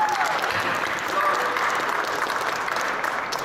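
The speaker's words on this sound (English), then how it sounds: "Give another round of applause for Brooklyn, please." Press conference audience at a boxing event applauding steadily in a continuous wash of clapping, with faint voices underneath.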